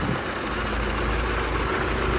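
YuMZ excavator diesel engine idling with its rebuilt motor, a steady close, loud low rumble that holds an even rhythm throughout with no voices.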